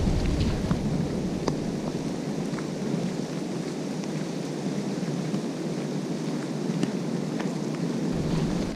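Steady rain hisses throughout with a low rumble underneath and a few faint distant thunder cracks on the Camino Primitivo near O Cadavo, Lugo; no voices.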